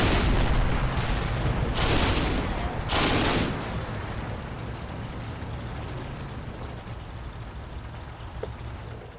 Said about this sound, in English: I can barely hear myself because of all the explosions and engine sound.